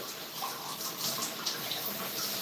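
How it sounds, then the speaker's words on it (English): Shower water running in a home bathroom, a steady hiss of spray heard alone and fairly faint, continuous without pause. "You hear the water? I'm taking a shower."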